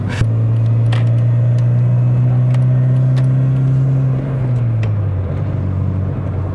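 A BMW 3 Series E46 engine drones loudly and steadily while the car drives, its tone holding level and then dropping near the end as the revs ease off, with no talk over it.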